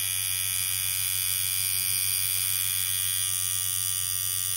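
An old coil tattoo machine, just reset and tuned, runs in a steady, continuous electric buzz with a high whining hum, close and alone throughout.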